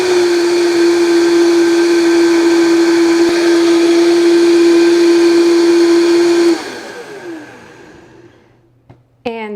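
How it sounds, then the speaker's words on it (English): A blender whirs steadily and loudly as it blends nuts with a pinch of salt into nut milk, then spins down and stops, leaving a few faint knocks. "And then you would blend that."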